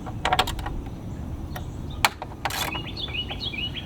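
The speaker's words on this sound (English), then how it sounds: "long Allen wrench to go in the hole." Close, light metallic clicks and ratcheting taps as a long Allen wrench works a bolt on a Lexus engine beauty cover, in short bursts with faint outdoor background noise.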